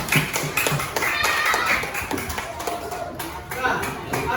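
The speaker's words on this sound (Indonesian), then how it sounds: "Tepuk tangan dulu." A class of fourth-grade children clapping their hands in a classroom, quick uneven claps mixed with lively chatter and voices throughout.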